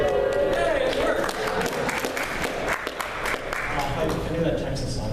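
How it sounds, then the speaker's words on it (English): An audience claps steadily through an opening ceremony at the Condition: Wasteland convention, a broad wash of applause that carries on evenly with voices mixed in. "See if everybody clapped."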